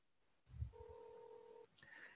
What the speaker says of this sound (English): You can hear that the call goes.